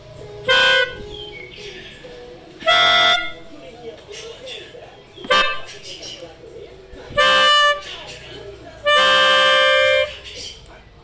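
Train horns from a JR205 electric train sound in five separate blasts, each a bright harmonic toot, the last one longer, with quiet gaps of background noise between them.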